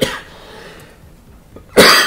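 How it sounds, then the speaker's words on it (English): A person who is ill coughs once at the start, then after a quiet pause lets out a second louder, harsher cough close to the microphone. "Sorry, excuse me about the coughing."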